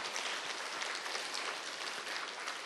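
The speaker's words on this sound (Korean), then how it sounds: "박수로 감사를 표현해 봅시다." Congregation in a Korean church service clapping together, a dense, steady patter of many hands held at an even level throughout, with no voices over it.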